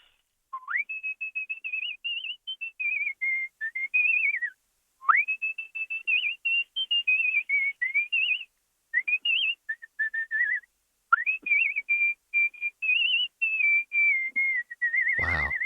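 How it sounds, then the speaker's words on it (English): A person whistles a melodic tune alone, in rhythmic phrases separated by short pauses, with clear, close, sustained notes that glide between pitches. "what was the song you were whistling?"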